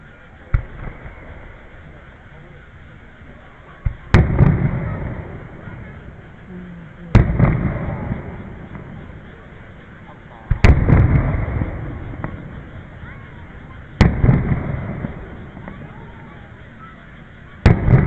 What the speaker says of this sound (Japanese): 花火打ち上げかな